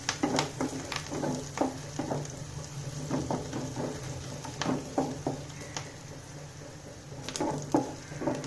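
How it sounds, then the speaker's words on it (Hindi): Curry leaves lightly frying in a pan for sabudana khichdi, giving a soft, steady sizzle with scattered faint pops and stirring clicks. "यहाँ कड़ी पत्ता भी डाल देना है। इसको एकदम हल्का हल्का भून लेना है।"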